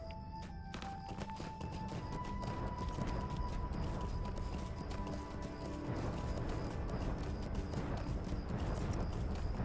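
Steady clip-clopping hoofbeats of a pig mount trotting in the fantasy online game LOTRO, continuous and fairly loud over a busy in-game ambience.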